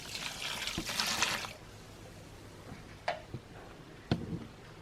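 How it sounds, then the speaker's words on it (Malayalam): Cow urine splashes and trickles from a container for Jeevamrutham fertilizer, a short close pour in the first second and a half, then a quiet background broken by a few faint knocks. "ഇത് ഗോമൂത്രമാണ്, അത് ഒഴിച്ചു കൊടുക്കാം"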